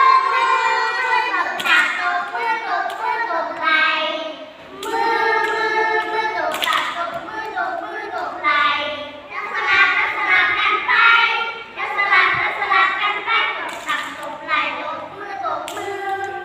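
Children clapping their hands and slapping their laps and shoulders in rhythm to a Thai classroom hand-clapping song, steady patterned slaps running under loud singing voices throughout.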